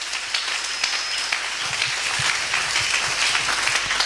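Church congregation applauding during a Sunday worship service, a steady wash of clapping from many hands that builds slightly after the first second and continues evenly throughout.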